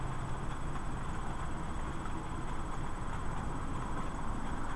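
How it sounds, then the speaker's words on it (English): Railway sound from a live junction camera stream, a steady rumbling wash of passing train noise held at even level throughout, with no clear horn or distinct wheel clicks standing out. "take the train audio back a notch"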